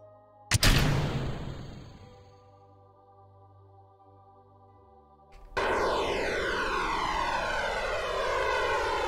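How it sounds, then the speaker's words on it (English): RCS thrusters fire in Kerbal Space Program with a sharp hiss that fades, then a loud steady whooshing roar with a sweeping tone that keeps going to the end. "Since when does the RCS boosters make that noise?"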